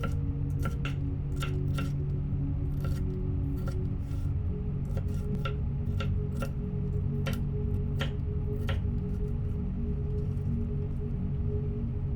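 A knife dices a bell pepper on a cutting board in a steady series of crisp, sharp chopping taps, close and clear over a constant low background hum, with no talking.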